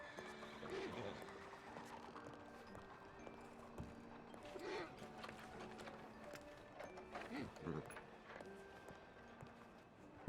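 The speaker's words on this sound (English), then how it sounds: "Whose horse is that?" A video game horse whinnies and its hooves clip-clop, faint and intermittent over about ten seconds, mixed with mechanical clicks and a person talking.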